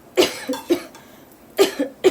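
Harsh bursts of coughing brought on by the fumes of green chillies frying, in two clusters of two or three quick coughs each, close and fairly loud with no talk.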